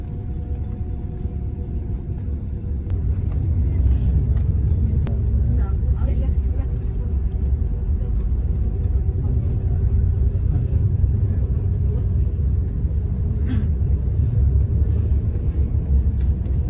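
A bus travels from Prague to Karlovy Vary. Its engine and road noise form a low, constant rumble that grows slightly louder after the first few seconds, with faint voices underneath.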